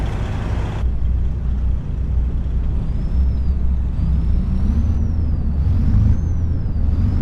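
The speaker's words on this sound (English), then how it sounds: "Let's pull the grain truck out here first." Air brakes hiss on a grain truck pulling out at the start of a wheat harvest, a steady loud engine rumble running throughout under a brief bright release hiss at the start.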